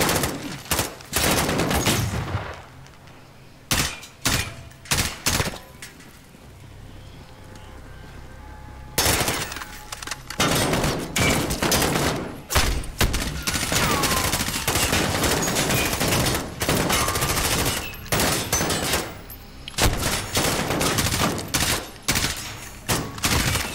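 Rapid bursts of automatic gunfire and single shots from the video game Call of Duty: Modern Warfare fill the scene, loud and dense, with a quieter lull partway through before the firing resumes.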